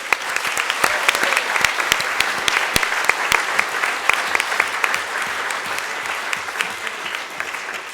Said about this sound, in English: And now a round of applause for all our accomplishments.